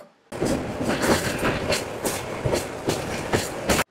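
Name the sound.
express train running at high speed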